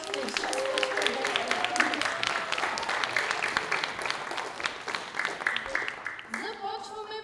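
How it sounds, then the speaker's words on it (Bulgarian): Audience at a cosplay stage during a game summit claps in a steady, dense wash of applause lasting several seconds, with voices and crowd murmur mixed in and a brief tonal sound near the end. "Аплодисменти за нашите спонсори cosplayshop.bg."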